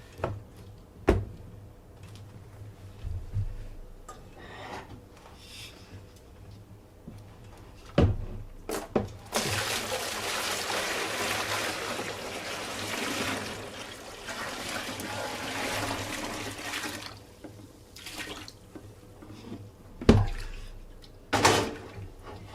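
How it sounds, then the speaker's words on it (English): Hot water at about 120 degrees is poured into a pot around jars of homemade yogurt, a soft trickling rush lasting several seconds amid scattered clunks and knocks from handling the pot, quiet and close. "Then I'm going to pour the water in around this."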